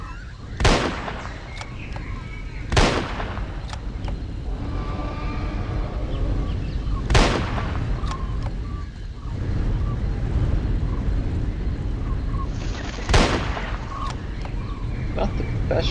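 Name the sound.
gunshots in a Jurassic Park hunting video game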